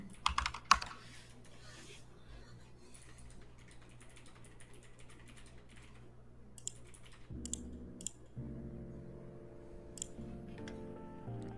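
Computer keyboard typing during a live market-trading stream: quick bursts of close key clicks over a low steady hum, busier and louder clatter toward the end.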